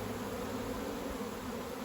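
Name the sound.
honey bees buzzing around an open beehive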